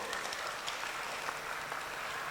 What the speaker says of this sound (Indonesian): beri tepuk tangan buat Real dong